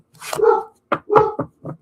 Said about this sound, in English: My dog needs to go outside